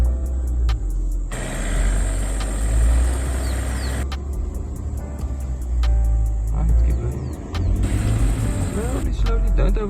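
Low engine rumble from an Ineos Grenadier moving slowly under light throttle, a steady near drone that swells and eases, with wind or handling noise and brief gaps around it.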